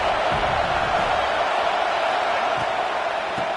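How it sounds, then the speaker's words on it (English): Steady crowd roar fills a college football video game stadium on a third-down defensive stand, a broad constant wash of voices holding at a high level throughout. "Decibels rising as the crowd gets behind this defense on third down"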